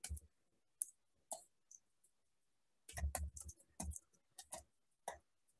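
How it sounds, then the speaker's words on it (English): Keys clack on a computer keyboard as a help desk agent types a reply in an omnichannel support chat, in short uneven bursts of close, crisp clicks with brief pauses between and no talking. "agent, by sitting on our Omni Channel help desk, can get that question and respond to the question by typing it over here"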